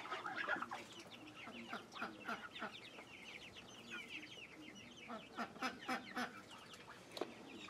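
Young roosters in a grow-out pen cluck and squawk close up in a long run of repeated, irregular calls, several birds overlapping with louder bunches of calls toward the end.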